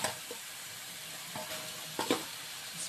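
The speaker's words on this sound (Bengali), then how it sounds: "তো দেখো এবার দিয়ে দেবো এর মধ্যে ফুলকপিটা" Cauliflower florets tipped into a pan of spiced gravy frying in oil, giving a steady sizzle with a few short stirring scrapes and soft splashes, close and moderately loud with no talking.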